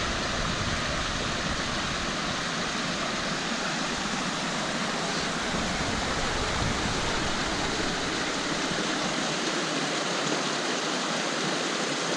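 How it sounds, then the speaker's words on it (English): Steady broadband rush of a stream flowing beneath a bridge, loud and continuous for the whole stretch with no voices over it. "water is definitely flowing really nice in here."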